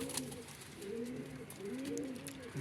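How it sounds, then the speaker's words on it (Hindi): Domestic pigeons, including a white female and a large bird with its young, coo softly in repeated low rolling calls at close range in a quiet space, with no talking. "ये कबूतर है मेरा।"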